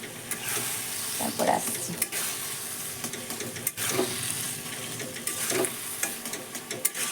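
Food tipped into a hot pan gives a soft, continuous sizzle broken by scraping and clattering knocks, with a brief spoken phrase partway through.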